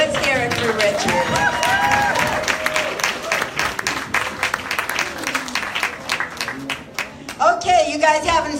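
An audience at a live cabaret show applauds a singer, with sustained clapping beneath a presenter's voice that talks over it throughout.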